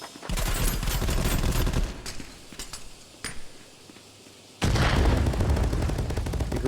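Bolt-action rifle fire in an esports shooter match, with dense bursts of sharp, loud gunshots and crackling fire, a brief lull with a few isolated cracks, then another loud volley near the end.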